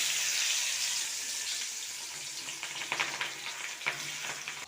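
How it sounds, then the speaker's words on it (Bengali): Vegetables for fried rice, including beans, frying in white oil in a kadai, a steady close sizzle that fades slightly, then scattered stirring clicks and light clatter, no voices. "কড়াই বসিয়ে দিয়েছি, কড়াইতে সাদা তেল দিয়ে দিয়েছি। এরপরে ভেজে নেব সবজিটা।"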